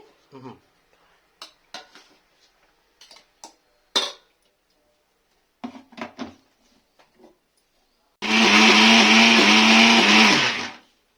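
Leftover cooked rice goes into a mixer grinder after several scattered clinks and knocks of utensils and lids, then the motor roars on loudly for about three seconds and cuts off.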